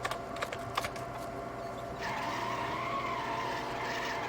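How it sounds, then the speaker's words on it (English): A nearby car motor in a racing video game: a faint droning engine tone that grows louder and steadier partway through, with a few sharp clicks early on. "I can hear his fucking motor."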